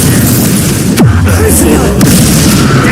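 A Confringo blasting spell exploding in the Hogwarts Legacy video game, a sharp boom with a falling whoosh, then a second burst a second later over a loud busy game mix.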